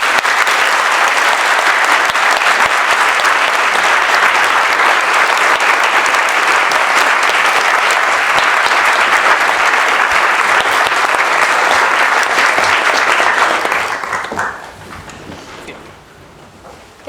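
An audience applauding to welcome Nancy Pelosi at an Oxford event, dense sustained clapping from a large crowd that fades sharply near the end.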